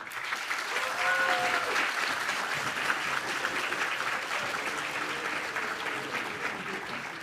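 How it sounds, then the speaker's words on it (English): An audience at a medical school white coat ceremony for the Class of 2027 gives steady, sustained applause, a dense even wash of clapping with a voice briefly audible within it. "thank you everyone for having the applause"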